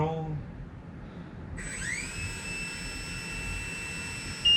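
A Blade 70 S micro RC helicopter's rotor and motor spin up, a thin electric whine that rises sharply in pitch and then holds steady at a close, moderate level.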